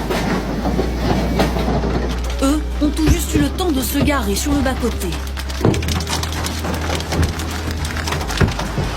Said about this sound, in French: Un bruit assourdissant. Le déluge de grêle est filmé par des habitants d'Aubenas en Ardèche, surpris par l'intensité de l'orage.